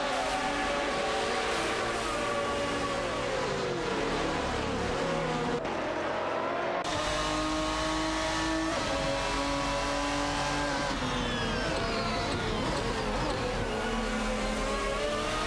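Race car engines in a racing video game whine loudly and without a break, several buzzing engine tones sweeping up and down as the cars shift and chase one another, with no talking.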